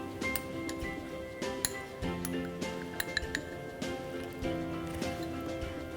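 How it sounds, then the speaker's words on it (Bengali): A mixing bowl rattles and clinks as it is handled for besan batter, with repeated light clatters of dishes and utensils in a busy kitchen. "এজন্য একটা মিক্সিং বোল নিয়ে নিচ্ছি।"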